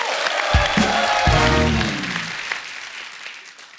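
A studio audience at a comedy talk show breaks into applause, a dense burst of clapping that swells quickly and then fades over a few seconds, with brief tonal sounds near the start.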